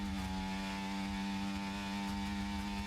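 A racing motorcycle engine screams at full throttle on the Portugal circuit, a loud, steady high-pitched drone with strong harmonics and no break or talk for the whole three seconds.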